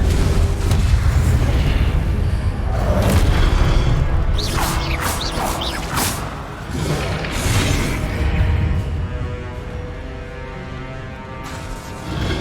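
Confringo fire spell blasts in Hogwarts Legacy, a run of booming fiery explosions with crackling debris and rumbling low end, repeated several times over continuous game ambience and music.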